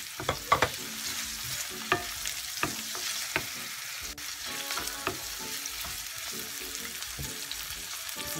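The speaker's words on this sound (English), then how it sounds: "Okay, I'm gonna add our garlic." Garlic sautéing in a pan with onion for a Filipino squash and pumpkin dish in coconut milk, a soft continuous sizzle broken by frequent clicks and scrapes of a utensil stirring, close and fairly quiet, with no talking.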